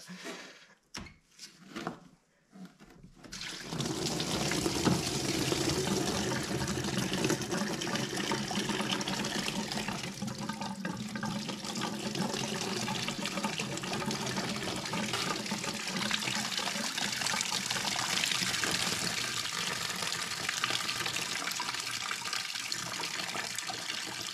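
Coolant gushing from a detached hose on a Fiat Fire engine radiator into a collection container, starting after a few soft knocks and then pouring as a steady, loud, splashing stream for about twenty seconds.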